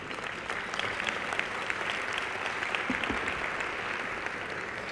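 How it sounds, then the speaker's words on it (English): An audience at a mayor's award ceremony breaks into sustained applause, a dense steady wash of clapping hands from a full room with no talk over it. "go ahead, applause."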